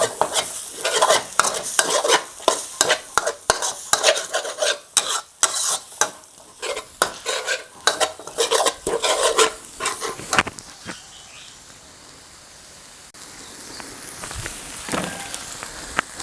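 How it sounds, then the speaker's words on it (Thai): Curry paste being stir-fried in a pan for a canned-fish curry, rapid loud scraping and clattering strokes over a sizzle for about ten seconds, then a quieter simmering hiss with a few faint knocks. "ผัดให้หอมนะครับ แล้วก็ ให้มันแห้งนะครับ"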